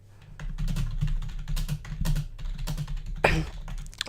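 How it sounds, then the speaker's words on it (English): Rapid, steady keystrokes on a computer keyboard during a live sports chat stream, close and fairly loud over a low background hum, with one sharper burst of clatter near the end. "So let me just type back."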